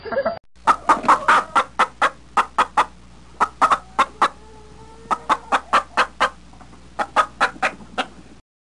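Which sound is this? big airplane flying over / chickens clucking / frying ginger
chickens clucking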